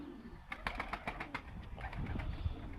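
Pigeons coo repeatedly in a loft, soft throaty calls close by in a steady, overlapping series with no voices.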